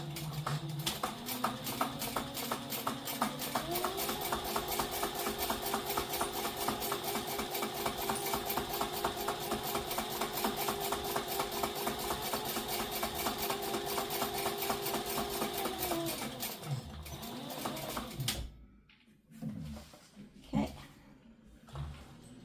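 A sewing machine runs steadily for about fifteen seconds, back stitching a handbag seam with a fast, even mechanical whir and rattle, then stops and gives way to a few quieter handling clicks.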